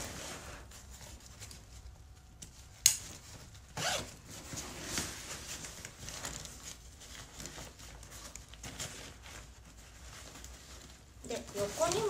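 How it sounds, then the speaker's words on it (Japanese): A zipper on the side pocket of a Millet Ubic 40 backpack rasps open and shut in several short pulls, close to the mic, with quieter handling rustles between them. "横にもファスナーがあったので"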